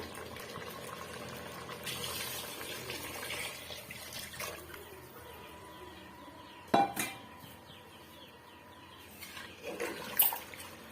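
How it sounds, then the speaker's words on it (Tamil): Water is poured into a pot of chicken biryani, a soft splashing pour followed by bubbling, with sharp clinks of utensils against metal. "நான் ஒரு கப் அளவுக்கு நான் தண்ணி சேர்த்துக்கிறேன்"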